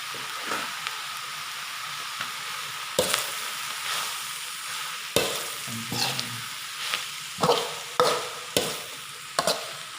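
Chicken frying in a pan sizzles steadily while a spatula stirs and scrapes it, with several distinct scraping strokes over the continuous hiss.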